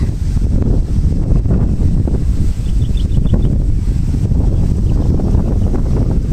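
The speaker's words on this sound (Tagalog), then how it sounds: "Lakas ng hangin, grabe." Strong, steady typhoon wind on a farm roars loudly and continuously, battering the microphone with a deep rumble throughout, with no voices.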